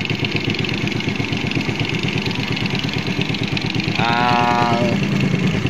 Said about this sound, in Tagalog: Ayan, palyado yung carburetor.